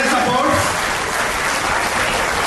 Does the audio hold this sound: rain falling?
no